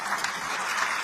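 A brief burst of audience applause at an academic talk on the right to science in Mexico, dense and steady, with no talk over it.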